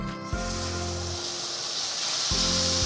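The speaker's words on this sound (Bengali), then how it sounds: "গ্যাসের আঁচটাকে কমিয়ে রসুনটা একটু সময় ধরে ভাজতে হবে যাতে খুব বেশি পুড়ে না যায়" Garlic frying in a pan over a low gas flame gives a steady, close sizzle and hiss that runs through the whole stretch, with a low tonal hum coming and going beneath it.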